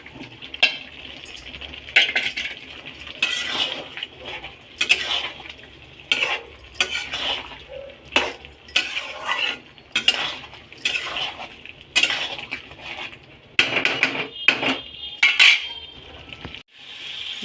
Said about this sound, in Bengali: এরপর দিয়ে দেবো ভেজে রাখা আলুগুলো।